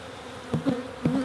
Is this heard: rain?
no